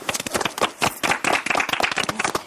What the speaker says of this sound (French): On peut s'applaudir, les gars.